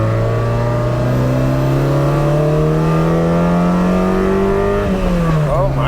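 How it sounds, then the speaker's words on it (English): A car engine prepared for track use holds its revs after the throttle is released: a loud, close, sustained engine drone rises slowly in pitch, then drops and wavers near the end. "I'm getting this weird rev hang when I let go of throttle"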